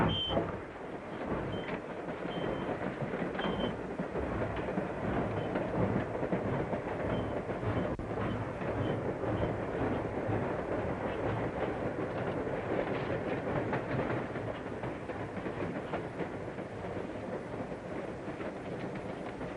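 Steady, dense rumble of a train rolling along rails at night, continuous and fairly loud throughout with a broad rattling roar and no talk.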